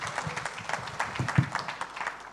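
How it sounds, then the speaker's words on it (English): An audience at a conference session applauds a speaker with a brief, moderately loud burst of clapping that stays fairly even throughout. "Merci beaucoup, on peut l'applaudir."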